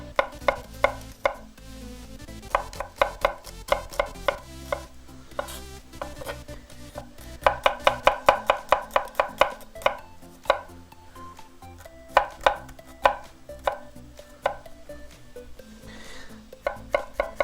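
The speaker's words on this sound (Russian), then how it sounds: "Также сразу же нам нужно нарезать чеснок и острый перец." A knife chops garlic and hot pepper on a cutting board for shakshuka, a quick rhythmic run of crisp taps in uneven bursts with short pauses between them, close and clear with no talk.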